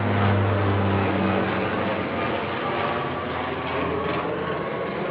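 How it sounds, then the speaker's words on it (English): A small patrol plane passes overhead, its engine a continuous droning roar with a low hum that fades slightly as it moves on, heard alone without talk. "Here comes another plane, a small patrol plane going straight over my head."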